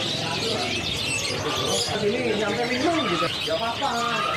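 Several caged songbirds at a bird market chirp and tweet in quick bursts, mixed with people talking nearby; the song is partly buried under the voices.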